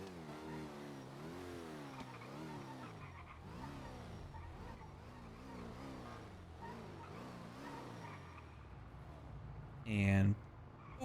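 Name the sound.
car engine revving in video game GTA V NoPixel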